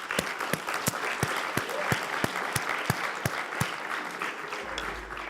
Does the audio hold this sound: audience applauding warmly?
yes